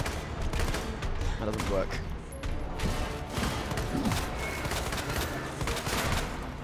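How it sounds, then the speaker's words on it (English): Pistol fire and other gunfire from the video game Resident Evil 2 Remake, heard as repeated sharp shots and bursts over game noise, with someone briefly talking. "this pistol doesn't do much against the eyes"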